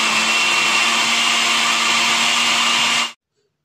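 A blender grinds a pineapple pie mixture with cream cheese, a loud, steady whirring roar that runs unbroken for about three seconds before cutting off abruptly into silence.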